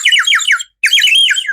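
Ceramic whistle tuned to imitate a turtle dove, giving a run of clear, high warbling notes in two loud bursts separated by a short pause, close and alone.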